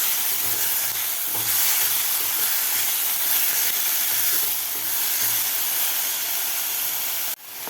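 Tomato puree is sautéed in a hot pan for a spicy dumpling amti. A loud, close, continuous hiss of steam and sizzle runs evenly throughout and cuts off abruptly near the end.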